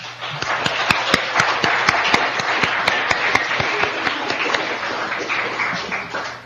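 An audience gives a sustained round of applause, with dense, steady clapping that fills the room and goes on for several seconds without talk.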